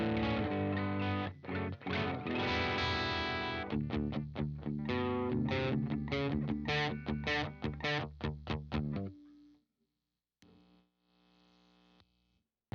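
Electric guitar through a Friedman BE-OD distortion pedal plays a gritty, saturated riff of sustained chords and choppy stabs, close and loud, then stops and leaves a faint amp hum.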